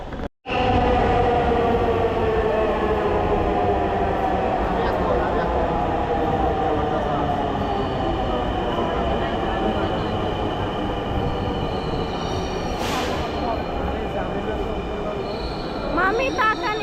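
Metro rail train running, a loud, steady rolling rumble with rhythmic wheel clatter and faint high squeals, sustained close by for over fifteen seconds after a brief opening gap.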